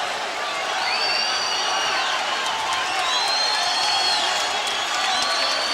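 A boxing arena crowd roars and cheers steadily near the end of a fight, a dense distant wash of voices with a commentator talking over it.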